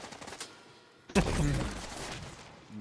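Enemy gunfire in The Division 2 erupts after a second of quiet, a loud burst of overlapping shots that carries on as a sustained rattle.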